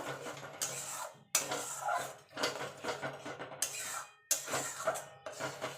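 Potato and cauliflower curry with yogurt stirred in a pan over low heat, giving repeated close scraping and rasping strokes of a spoon against the pan in a steady, uneven rhythm with short pauses between bursts.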